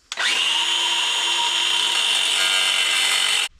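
A high-pitched grinding wheel cuts into a part on a rat rod Camaro with a steady loud screech for about three seconds, close by, ending abruptly.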